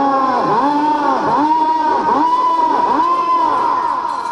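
Crowd noise at a bull race in Avuku, dominated by loud, sustained, warbling whistles that rise and fall in repeated sweeps over a steady roar of cheering spectators.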